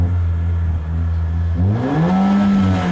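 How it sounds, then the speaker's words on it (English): A Mercedes-AMG A45 with a 2-litre engine firing up, low idle rumble then a sharp rising rev flare that settles into a steady higher hum, loud and close. "You can't help firing this Mercedes up"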